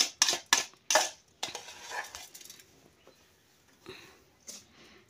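Grains of rice poured into the pot of an electric rice cooker for biryani, a run of loud clattering, rattling bursts up close, then quieter scattered taps and a faint patter trailing off.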